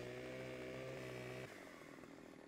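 Chainsaw cutting logs in the video game Farming Simulator 17, a steady buzzing engine drone that drops in pitch and loudness midway as the saw bites into the wood, heard alone.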